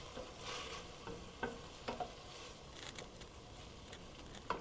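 Tomatoes and garlic cook in a pan for a cheesy zucchini dish, with a soft steady sizzle broken by several stirring scrapes and clicks.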